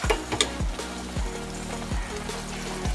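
Tomato paste sizzling in a hot pan for a chicken masala, a steady close frying hiss with a few scraping stirs of a spoon through the paste at regular intervals.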